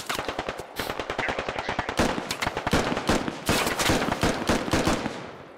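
Sustained automatic gunfire in the military shooter game Squad, dense rapid bursts with overlapping shots and heavy suppression, loud and continuous throughout without a break.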